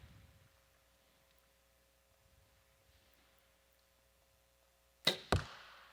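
Two sharp arrow releases in quick succession near the end, each a loud snap with a short ringing tail, following a long quiet stretch of faint indoor room noise at an archery pro finals.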